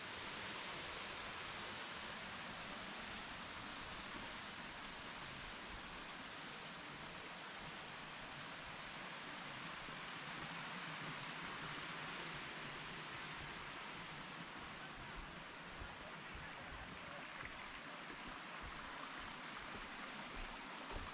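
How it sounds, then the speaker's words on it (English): A hot-spring river in Noboribetsu rushes downhill past small waterfalls, a steady, broad roar of flowing water that never changes, with no voices. "From here we follow the river downhill past quite a few small waterfalls."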